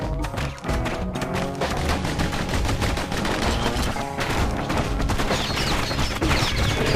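Enemies fire in the action video game Bastion. Dense, rapid gunfire-like shots and impacts run continuously over loud game music and effects, and a narrator speaks over part of it.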